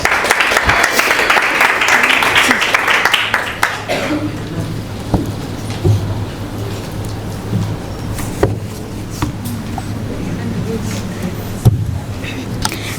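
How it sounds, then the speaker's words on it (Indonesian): A burst of audience applause at a presentation event fills the first few seconds, then fades into a quieter room with a low hum and scattered thumps. "Tepuk tangan."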